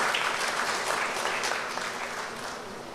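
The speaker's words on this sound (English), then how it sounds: "Let's give them another round of applause." Audience applause fills the hall at the NGC Sanfest launch of the San Fernando Arts Council, a steady, dense wash of many hands clapping that holds loud throughout and eases off slightly toward the end.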